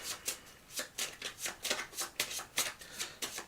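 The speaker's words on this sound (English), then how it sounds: "I have to shuffle up my deck, start again." Quick rippling bursts as a deck of cards is riffle-shuffled and bridged several times in a steady rhythm, close and fairly quiet.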